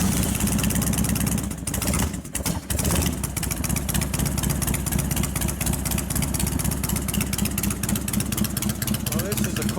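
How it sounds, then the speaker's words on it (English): A 1999 Harley-Davidson FXR2 with an Evo engine idles steadily and loudly up close after a cold start, its uneven, lumpy pulse continuing throughout with a brief dip partway through. "Cold start, gotta let it warm up."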